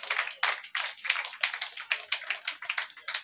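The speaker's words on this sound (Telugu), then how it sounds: "ఇప్పుడు ఒక్కసారి ఆ బ్రదర్కి ఒక్కసారి చప్పట్లు కొడతారా?" An audience claps for a brother at a gathering, giving a dense, steady round of applause with many overlapping hand claps, moderately loud and close, no voices over it.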